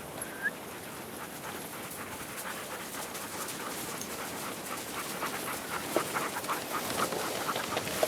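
Sled dogs panting close by in a snowy outdoor kennel yard, a steady rapid breathing texture with faint whines and distant dog noises throughout, no talk.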